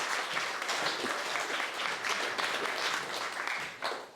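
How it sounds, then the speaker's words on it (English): Wedding guests applaud during the reception speeches, a steady, even patter of many hands at moderate loudness lasting a few seconds. "So can we have a round of applause for Steve again as well?"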